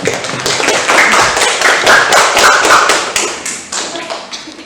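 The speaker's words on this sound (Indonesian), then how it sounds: "Tepuk tangan dulu." Students in a grade 7 classroom clap their hands in a dense burst of applause, close and loud, with brief fading claps toward the end.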